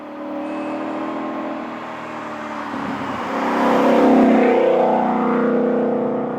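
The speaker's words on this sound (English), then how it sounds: "kind of just sounds like a Mustang in here" Steady engine drone of a Ford Mustang RTR Spec 3 heard from inside the cabin, holding an even tone before swelling a little louder and deeper as the throttle opens, with no talk over it.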